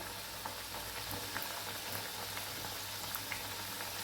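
Flour-and-potato pastry pieces fry in hot oil over a lowered gas flame, giving a soft, steady sizzle and bubble with faint pops and no voices.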